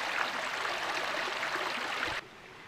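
Water trickling off a leaf like a small waterfall into a bottle or bag for filtering, a faint, steady splashing stream that stops abruptly near the end.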